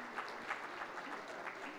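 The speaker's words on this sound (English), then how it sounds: "Please put a round of applause in welcoming" Conference audience at a sesame industry event applauding to welcome a speaker on stage, a soft, fairly distant patter of clapping from a modest crowd.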